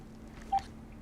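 A VTech CS6529-4B cordless phone handset gives one short electronic beep as its INT button is pressed, a single clean tone over quiet background hiss.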